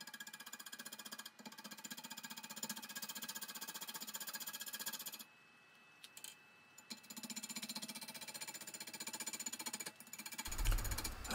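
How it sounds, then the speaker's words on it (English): A wood lathe turns a tamarack burl while a 5/8 inch bowl gouge roughs it out, giving a fast, gritty rattling chatter in two long stretches split by a short silent gap, with a low thump at the end. "I'm just going to use a 5/8 inch bowl gouge to rough this thing out and start creating a tenon as well."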